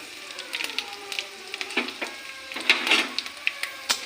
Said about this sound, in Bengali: আমি এখন ফোড়ন দেব গোটা জিরা লং এলাচি দাসনি শুকনো লঙ্কা তেজপাতা